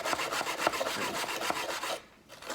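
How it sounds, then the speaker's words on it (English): A wire brush is scrubbed across aluminum stock for a custom outer window frame on a teardrop trailer before welding. The close, rapid back-and-forth strokes are rhythmic and rasping, then stop briefly near the end. "wire brush all the places you're going to weld"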